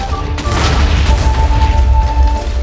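A bomb blows up in the video game Minecraft, a loud, booming blast with rumbling debris and crashing that fills the whole moment, heard up close.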